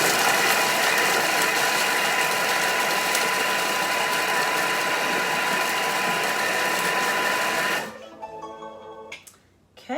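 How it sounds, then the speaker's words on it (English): A Thermomix whirs loudly at speed 5 as it chops onions and oats, a steady mechanical grinding for about eight seconds that then stops abruptly, leaving quiet clatter. "And that's going to now be chopped at speed 5 for 8 seconds."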